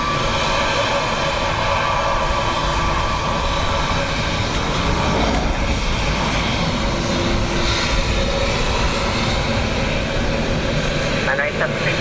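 An airliner takes off from runway 10 right at Dublin Airport on a windy, wet day, its engines giving a steady loud broadband roar throughout, with radio voices talking over it.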